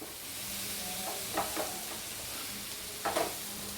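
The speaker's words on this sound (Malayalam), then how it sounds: "കോളിഫ്ലവറും കൂടി ഇട്ട് കൊടുത്ത് നല്ലതുപോലെ ഒന്നും കൂടെ വഴറ്റുക" Cauliflower curry being sautéed in a pan, a soft steady sizzle with a few brief scraping stirs of the spoon, close and fairly quiet, no voices.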